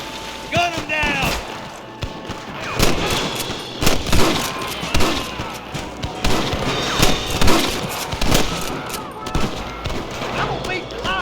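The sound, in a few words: gunfire at rustler guards in the video game Red Dead Redemption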